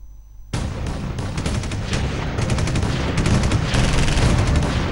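Gunfire on the India-Pakistan border comes as a sudden onset of dense, rapid, crackling bursts that continue without a break and grow slightly louder toward the end, with no voices over it.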